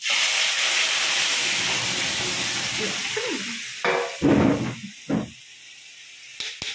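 Garlic and cumin tempering in hot oil gives a loud, dense sizzle that slowly fades. A few sharp clatters and scrapes of a utensil against the pan follow near the end.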